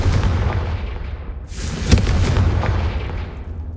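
Confringo fire spell in Hogwarts Legacy: a loud, close fiery blast bursts out with a sharp crack, followed by a roaring rumble that lingers, over a continuous low game background.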